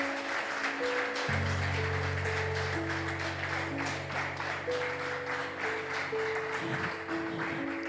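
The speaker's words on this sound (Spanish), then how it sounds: "Fuerte el aplauso a Dios." Church congregation applauding, a continuous wash of clapping with sustained keyboard chords droning underneath, steady and moderately loud.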